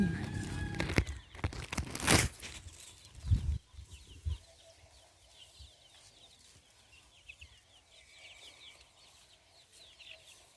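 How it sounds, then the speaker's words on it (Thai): Jungle fowl calling in a garden orchard after a hailstorm, as faint distant clucks and crowing phrases behind scattered knocks and rustling, with no talk. "ไก่ป่าแล้วเนี่ยฮะไก่ป่า"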